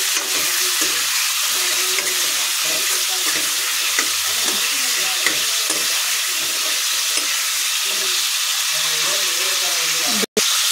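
Eggs fry in a pan for egg masala with a continuous loud sizzle and occasional stirring scrapes, steady and close for the whole stretch, cut by one abrupt dropout near the end.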